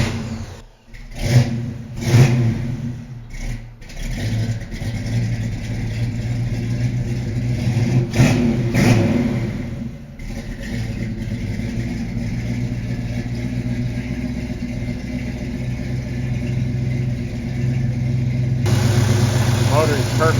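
A clean classic car's engine cranks and fires, then revs up several times before settling into a steady, smooth idle, loud and close, with someone talking over it.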